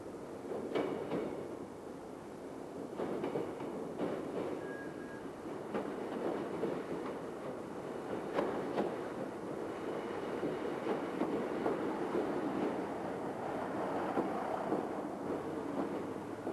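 A Class 155 Sprinter diesel multiple unit train rumbles steadily along, a continuous low drone with rattling and faint clanks, heard from inside, no voices.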